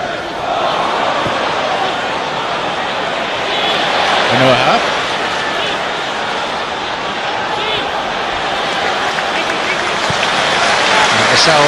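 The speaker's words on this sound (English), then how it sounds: "With the pass back to Hart, and applause for Anuaha." Football crowd at a Manchester City versus Everton match applauding steadily, a broad continuous wash of clapping and stadium noise spread across the whole stretch, with a commentator's voice running over it.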